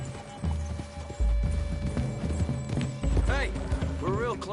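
Horses trotting in the Red Dead Redemption II video game, with a steady clip-clop of hooves close by, a brief whinny, and game characters talking over the hoofbeats.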